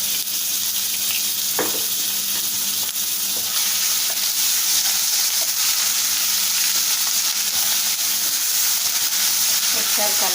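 Onions fry with ginger garlic paste in a pan: a loud, constant close sizzle and hiss runs throughout, with a few faint clinks of stirring.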